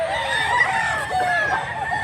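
A rooster crows loudly and close at a cockfight, one long drawn-out call filling the moment with faint crowd noise beneath.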